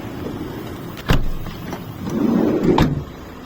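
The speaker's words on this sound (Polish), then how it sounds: "Włączamy, zamykamy drzwi." Car door shuts with a single sharp thud about a second in, then a second softer knock near the end, over a steady low interior hum of the running air-conditioning treatment.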